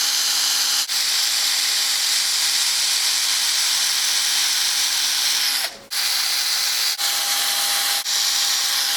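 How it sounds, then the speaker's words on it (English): A power drill bores through a metal license plate mount bracket for a Dodge Viper, a steady loud high-pitched whine with brief catches and one sharp interruption partway through. "Now I'm gonna do my best to drill through these marks as straight as I can."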